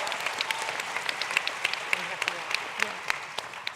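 An audience at a panel discussion applauds, steady clapping from a moderately sized crowd that holds at an even level throughout, with a few sharper claps standing out.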